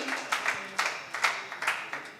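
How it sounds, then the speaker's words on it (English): A small crowd at a university MOU signing ceremony gives a round of applause, with distinct claps landing in a loose, uneven rhythm, moderately close and fairly soft. "Once again, a big round of applause for the MOU signing."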